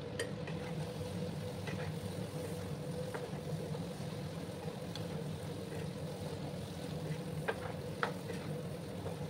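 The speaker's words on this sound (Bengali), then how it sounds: "একটু সময় নিয়ে পটলগুলোকে আমি একটু লাল লাল করে ভেজে নেব।" Pointed gourd (potol) pieces frying in oil with turmeric and salt, a continuous dense sizzle with a few faint scrapes and clicks, close and steady throughout.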